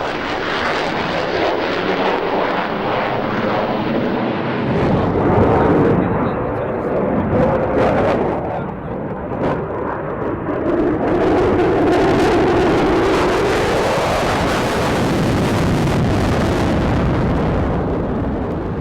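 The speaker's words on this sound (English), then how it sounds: "The latest version of the F-16 Fighting Falcon also displayed at the show" An F-16 Fighting Falcon jet performs at the Farnborough 2002 air show, a loud roaring engine sweeping past with a rising and falling whoosh, a voice speaking over it at points.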